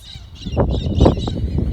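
Chickens cluck and squawk nearby in a busy, overlapping chorus, with rough honking calls rising and falling over a low background rumble.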